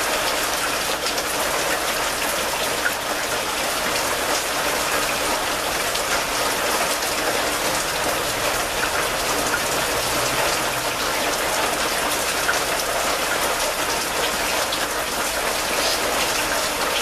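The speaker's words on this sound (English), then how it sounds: "This is how you can tell it's pouring." Heavy rain pours down in a dense, steady hiss, with water spilling from overflowing gutters mixed into the constant wash, loud and unbroken throughout.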